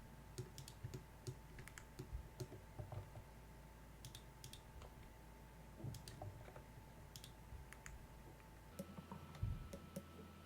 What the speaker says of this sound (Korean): X 눌러서 삭제해줄게요